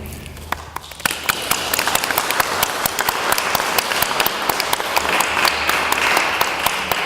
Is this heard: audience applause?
yes